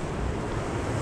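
Ocean waves wash against a rocky shore where fishing goes on, a brief burst of loud, broad surf noise mixed with wind buffeting the microphone.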